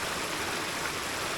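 Steady flowing water of a river or creek beside a trail in the Appalachians, a continuous broadband rush heard close and alone without talk.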